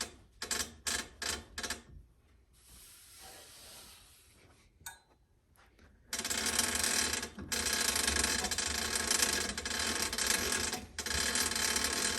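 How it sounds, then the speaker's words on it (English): Longarm quilting frame rolling a custom quilt onto its bottom bar, heard as a run of close ratcheting clicks followed by a loud, steady mechanical whirr that fills the second half. "I'm just going to roll the quilt onto that bar."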